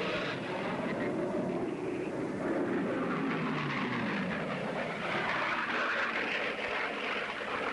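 A racing propeller airplane pushing over 3,000 horsepower during a 1969 world speed record attempt roars continuously, a loud sustained engine drone with rushing wind and no voices.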